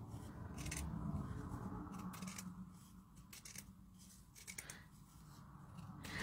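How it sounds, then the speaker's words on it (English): Scissors snip and slide through paper cut from an old Sears catalog, a quiet, close, steady trimming with soft repeated cuts and no talking. "But I'm trimming up along the edge here."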